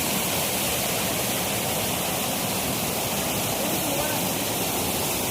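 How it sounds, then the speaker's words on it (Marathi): A waterfall at a village dam pours in a constant, dense roar of rushing water, loud and close, filling the whole stretch without pause. "धबधबा."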